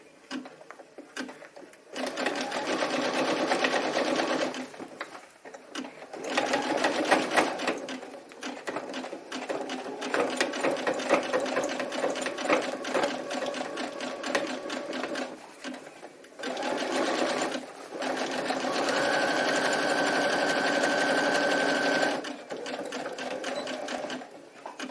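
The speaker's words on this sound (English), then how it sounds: "I'm going to do one line of zigzag stitching from the top to the bottom" Household sewing machine running zigzag stitches to mend a tear in fabric, steady whirring bursts with brief pauses between passes, close and clear.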